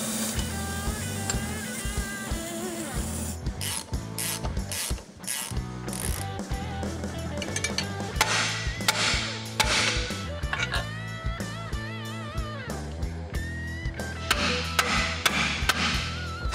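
Front suspension parts being removed from a Ram 1500 pickup with a ratchet and hammer: rapid ratchet clicking, sharp metallic hammer blows and clanks of loose parts, close and busy throughout with short pauses between bursts.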